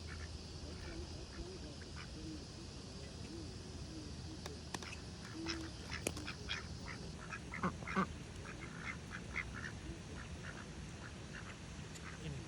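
Ducks on the Guadalupe River quack in short scattered bursts, faint and fairly distant over running water and outdoor ambience, with voices talking quietly nearby.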